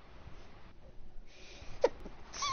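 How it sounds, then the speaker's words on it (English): A single quick, quiet sneeze near the end of a short, hushed stretch, followed by a faint squeaky breath. "You sneezed"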